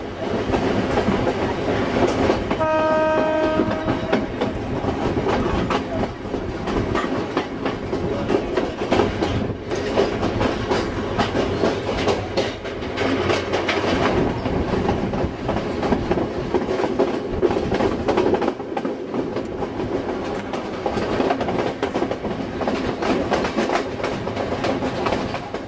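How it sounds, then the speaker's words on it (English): A diesel multiple unit train runs steadily on a British branch line, heard from inside the driver's cab: a constant loud engine drone and rumble with rhythmic rail clicks throughout and a brief horn-like tone near the start. "travelling in the driver's cab of this DMU"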